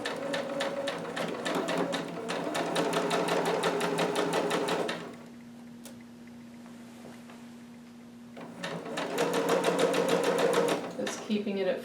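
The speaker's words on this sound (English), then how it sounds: "5/8 from the top in a permanent stitch, stitching, then back stitching" A home sewing machine runs a permanent stitch and then back stitches on a Vogue 2530 garment seam, a close rapid mechanical rattle in two long bursts separated by a quieter pause with a faint hum.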